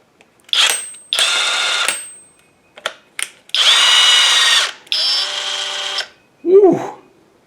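A 12 volt olmlmo cordless impact driver runs in several bursts of whirring and rapid impact hammering, each lasting about a second, close and loud, with short gaps between them and a brief vocal exclamation at the end.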